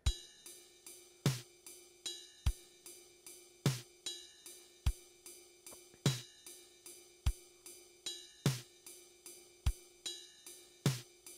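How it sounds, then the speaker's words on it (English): A sequenced drum loop with bass drum on beat 1 and snare on beat 3, alternating in a steady repeating pattern, crisp electronic thumps and snaps over a faint sustained tone. "I've drawn in the bass drum on the 1 and the snare drum on the 3."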